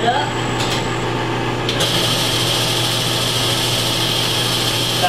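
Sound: metal lathe parting off a piece

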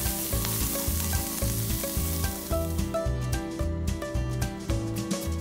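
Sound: sausage sizzling on a grill with oil

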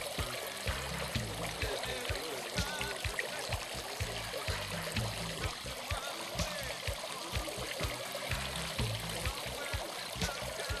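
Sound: pond fountain splashing and aerating the water

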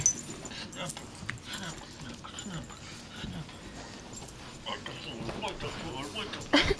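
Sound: Yorkshire terrier puppies yipping

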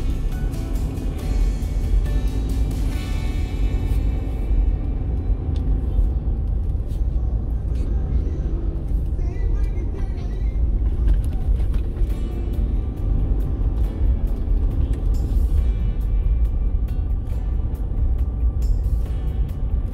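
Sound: car driving through Pasig City streets

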